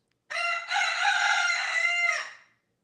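A rooster gives one loud, close, drawn-out cock-a-doodle-doo crow with a brief break near the start, heard alone without talk.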